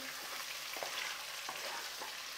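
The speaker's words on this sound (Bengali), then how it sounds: "চিকেনটা আমার ভাজা হয়ে গেল" Chicken leg pieces fry in a pan with a steady, close sizzle and crackle of hot oil, punctuated by a few soft clicks and pops; no voices.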